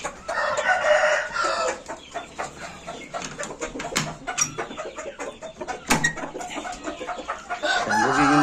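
Chickens and a rooster, including a hen brought from Çanakkale, in a backyard coop. Hens cluck steadily and a rooster crows, with sharp calls rising over a busy, continuous farmyard clamor close by.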